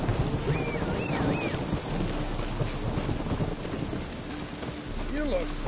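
Rain and thunder in a PS4 video game: a steady hiss of rainfall with low rumbling thunder throughout, along with a few faint whistling tones in the background.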